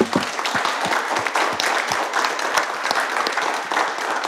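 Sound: audience applause at a debate

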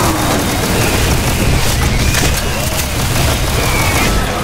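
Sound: grenade explosions in the video game Doom Project Brutality

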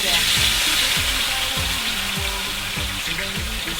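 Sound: frying fresh tea leaves in oil

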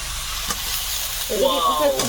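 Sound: prawns added to hot pan, frying with cauliflower and potato

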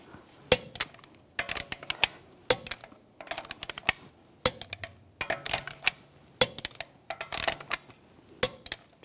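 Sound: torque wrench tightening wheel lug bolts

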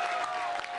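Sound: applause from fans

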